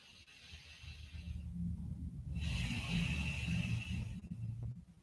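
Slow, deep breathing into the belly during a relaxed rehab exercise: a long airy inhale, then a rougher, fuller breath close to the microphone, with no speech.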